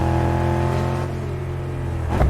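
A car engine in a squad-based video game hums and revs steadily, its tone dipping and shifting midway, with a short knock near the end.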